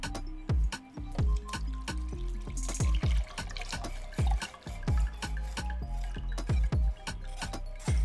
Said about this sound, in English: And now we just want to strain the consomme.